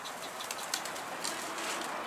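A short burst of pigeon wings flapping close by, a few quick fluttering beats against a soft background hiss.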